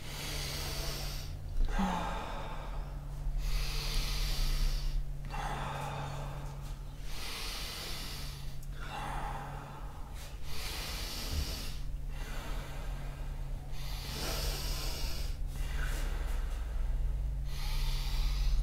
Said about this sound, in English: Let's do 10 more breaths.